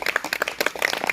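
Villagers clap in a quick run of sharp, irregular claps at a street magic show, close and fairly loud, with no talk over them.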